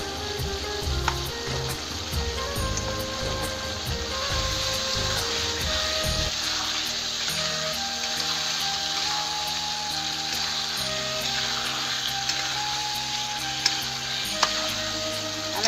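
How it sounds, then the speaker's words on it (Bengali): Eggplant pieces sizzle and fry steadily in a spiced masala in a pan while being cooked down for a Bengali potato-eggplant dish, with a continuous close hiss and occasional stirring clatter, no talking. "এই বেগুন দিয়ে ভালো করে বেগুন কষাই নেবো।"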